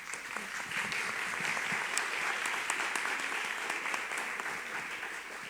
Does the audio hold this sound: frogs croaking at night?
no